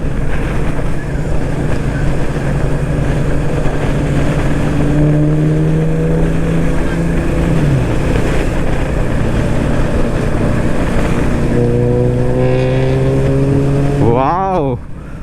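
Royal Enfield Classic 350 motorcycle cruising on the road, its exhaust giving a loud, continuous low thump with a steady drone and a brief rising rev near the end, passing close.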